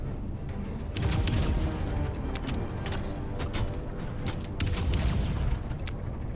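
Ship weapons fire in rapid continuous volleys in the Wildgate PvP shooter, with a dense loud stream of booming shots and mechanical rumble that swells twice.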